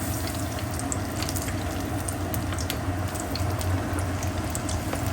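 Aloo chop frying in hot oil, a steady, dense sizzle and bubbling that stays even throughout, with light scattered crackles while the pieces are turned and stirred.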